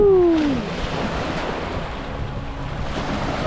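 Ocean waves wash in a steady, fairly loud surf roar mixed with wind noise, a brief tonal whine fading in the opening half second.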